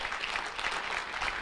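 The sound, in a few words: applause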